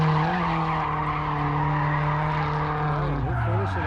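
Tires screech in a long, loud skid from a drifting BMW E46 at a drift competition, with a harsh sustained engine drone underneath, the pitch shifting as the car slides; the screech and engine dominate throughout.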